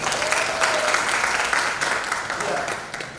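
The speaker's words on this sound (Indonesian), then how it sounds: "tepuk tangan sekali lagi untuk Dr." Audience members clap for Dr. Adi after his guest lecture at a university, a continuous, moderately loud spread of applause with a voice faintly present beneath it.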